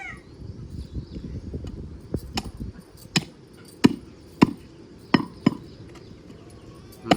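A knife chopping peeled vegetables on a board in a busy kitchen preparing a party order, sharp distinct chops spaced about every half second over a steady low background hum.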